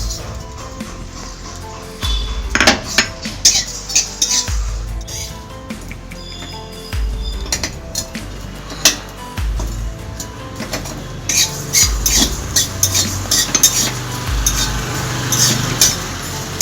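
Dry whole spices (dried chillies, peppercorns, cumin and coriander seeds) rattle and scrape in a pan while dry roasting, with irregular scratching strokes and soft clinks in bursts, close and fairly quiet.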